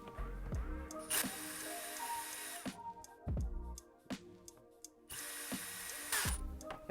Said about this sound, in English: unscrew the 6 screws on the side